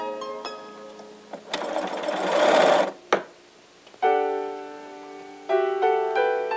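A sewing machine stitches continuous bias binding, with bursts of steady mechanical whirring broken by pauses and a sharp clack in between.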